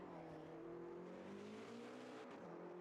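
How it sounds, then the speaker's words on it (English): A race car engine in a Le Mans 24-hour racing video game drones at steady high revs, its pitch climbing smoothly as it accelerates, then dipping briefly and rising again, loud and continuous with no talking. "That engine sounds like it's turned up."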